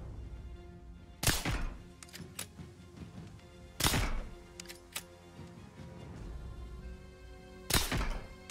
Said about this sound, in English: Just going to do shooting through the iron sights first of all.